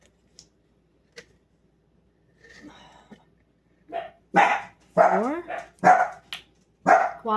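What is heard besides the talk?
dogs barking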